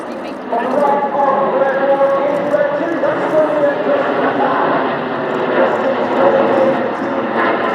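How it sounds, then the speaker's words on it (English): Steady propeller-engine drone of a Spitfire flying past at the RIAT 2024 airshow, loud and continuous throughout, with a commentator talking over it. "This is Spitfire."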